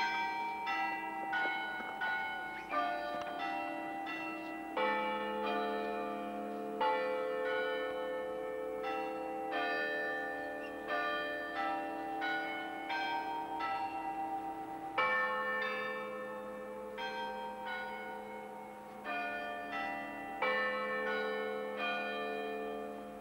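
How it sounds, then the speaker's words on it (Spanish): Church bells at the Sanctuary of Fátima in Portugal peal in a long, melodic sequence of struck tones, repeating in rhythmic phrases, clear but somewhat distant and alone without talk. "Estamos en el santuario de Fátima y acabáis de escuchar las campanas tocando"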